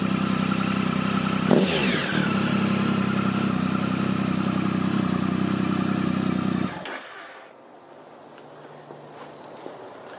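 A 2008 Triumph Tiger motorcycle with the exhaust baffle removed rumbles loudly and steadily, with a brief rev and a downshift pop. Its engine then cuts off abruptly, leaving a quiet background.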